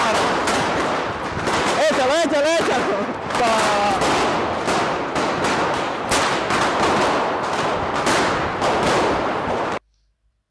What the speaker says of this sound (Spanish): esta gente lanzando cohetes